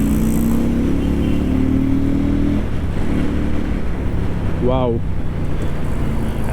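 A Keeway Benda V302C two-cylinder belt-drive cruiser motorcycle rumbles along on the road, its engine and exhaust droning steadily and loudly under wind noise, with a brief exclaiming voice.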